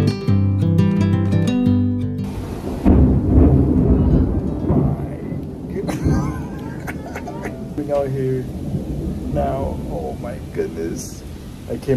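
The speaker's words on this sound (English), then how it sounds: "It is thundering, lightning, pouring down now." Thunder rumbles with heavy tropical rain pouring down at Grand Cayman, a loud, continuous wash of rain with low rolls of thunder, while people talk nearby and music plays briefly at the start.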